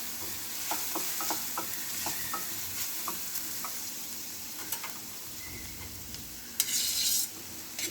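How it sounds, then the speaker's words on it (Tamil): Chopped onion sizzles and fries in a pan while being stirred, with steady frying hiss and a series of light scraping and tapping strokes from the spatula, close and fairly quiet. "இப்போ ஆனியன் வதங்கினோடனே டொமேட்டோ போட்டுக்கலாம்."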